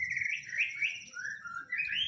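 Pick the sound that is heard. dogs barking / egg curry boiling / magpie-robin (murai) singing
magpie-robin (murai) singing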